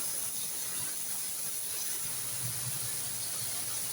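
Paneer cubes toast in hot oil in a pan with a steady, even sizzling hiss that runs unbroken and fairly quiet throughout, with no talking.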